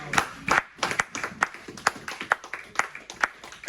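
A congregation in a French-language church service claps in a quick, steady rhythm, many hands together at a loud, close level for several seconds.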